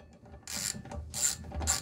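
A socket ratchet tightening a nut on a Simson moped cylinder head stud: a few short, bright clicking bursts, close and moderately loud, in otherwise quiet surroundings.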